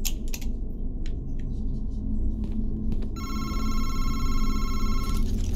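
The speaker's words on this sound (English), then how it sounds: "oh, the phone rings" A telephone bell rings in a video game, a steady electronic trill coming in partway through over a low background hum, with some clicking before it.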